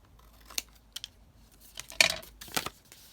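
Close, crisp snips of scissors trimming material while making mason jar crafts, a few scattered cuts followed by a quicker cluster of louder snips, with no talking.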